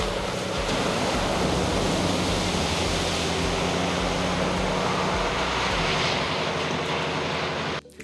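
A 2022 Ram 1500 Rebel GT Night Edition 4x4 pickup ploughing through a big puddle on a slushy back road, a loud sustained rushing splash and engine roar that cuts off abruptly at the end.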